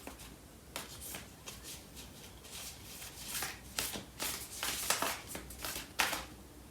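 Tarot cards are shuffled by hand, a soft, close riffling and slapping of card stock in uneven bursts that grow busier, ending with a sharp flick as one card is drawn.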